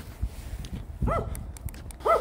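A dog gives a few short barks and yips close by, spread out over a couple of seconds with brief quiet gaps between them.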